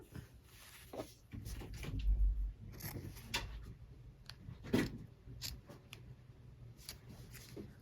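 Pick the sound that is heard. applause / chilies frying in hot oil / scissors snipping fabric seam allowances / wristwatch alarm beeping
scissors snipping fabric seam allowances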